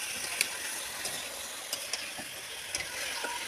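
Meat curry frying in hot oil in a home kitchen pot with onion, tomato, vegetables, cardamom and cumin, a steady sizzle broken by occasional scraping clinks of a stirring spoon against the pot.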